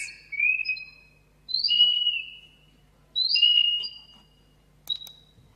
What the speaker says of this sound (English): This is a secret language that mice use. I have pitch shifted it down 10 times.